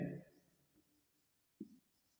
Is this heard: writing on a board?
yes